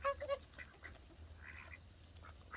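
Ducks quacking outdoors, a quick burst of loud quacks at the start followed by scattered softer calls and low background noise.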